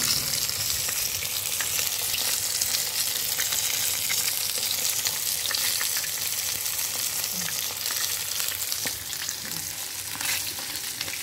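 Catfish (hito) frying in a pan of hot oil, a dense, continuous crackling sizzle heard up close, with occasional spatters and no voices.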